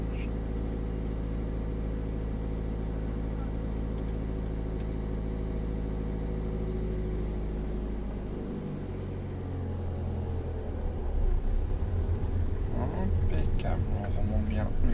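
A car engine idles steadily in first gear as the clutch is slowly let up, the low drone shifting and rising gradually near the end, heard close inside the cabin with an instructor talking over it.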